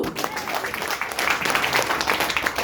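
Audience of men and women at an indoor gathering gives a brief, moderately loud round of clapping, steady and dense throughout with a little voice mixed in.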